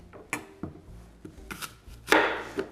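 Knife chopping a couple of onions on a cutting board, with a handful of sharp, separate chops spaced irregularly, the last one louder and longer as the blade slices through.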